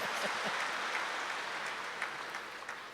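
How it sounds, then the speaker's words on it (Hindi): Crowd clapping at a Gujarat zone welcome session, a steady, fairly faint wash of many hands heard from a distance with no voices over it. "ताली बजाओ"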